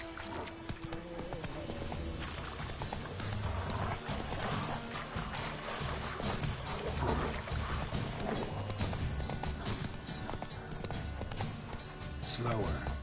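Roach the horse gallops in The Witcher 3, a steady rapid clip-clop of hooves with occasional snorts and a whinny, running continuously under game ambience and a speaking voice.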